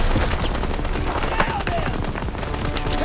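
Gunfire from World War II weapons in Call of Duty WWII during a fight on Hill 493, with dense overlapping shots and bursts rattling continuously under a busy battle soundscape.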